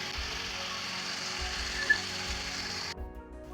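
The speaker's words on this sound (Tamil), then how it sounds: "இந்த அரிசியை போட்டு எண்ணெயில் வணக்கிட்டாங்க" Rice fries in oil for chicken biryani, giving a steady close sizzle that holds evenly, with a faint clink partway through, before cutting off near the end.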